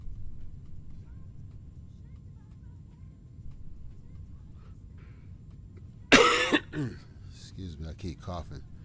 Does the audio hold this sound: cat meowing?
no